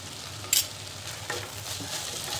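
A vegetable dish with crushed peanut powder sizzles steadily in a pan while being stirred, with a bright scrape near the start and softer stirring strokes after it.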